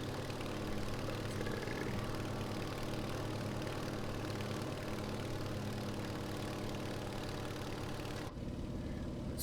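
An aircraft engine idles steadily in a flight simulator game, a constant droning hum with a low throb, then the sound shifts abruptly near the end.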